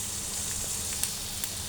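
Chicken and egg frying together in a pan for noodles, a soft, even crackling sizzle at low volume with a couple of faint utensil ticks.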